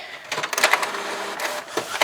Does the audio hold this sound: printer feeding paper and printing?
yes